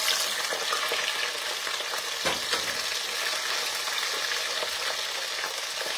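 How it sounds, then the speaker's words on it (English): Green beans deep frying in a pot of hot grease, a steady dense sizzle with frequent sharp pops and crackles close by, no voices. "It's popping."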